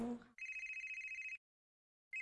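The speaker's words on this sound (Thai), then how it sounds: "เอ้าโทรศัพท์ใครคะมันไม่รับสายอ่ะ" A mobile phone rings unanswered in a school staff room, its steady warbling electronic tone pulsing for about a second, cutting off, then starting again, loud and close, after a brief burst of talk.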